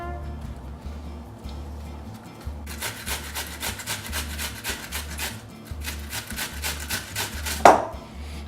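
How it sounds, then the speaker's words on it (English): Onion being grated by hand for emu egg latkes, heard as repeated rasping strokes in a steady back-and-forth rhythm, close and moderately loud, with a louder scrape near the end. "So let's go ahead and grate some onion."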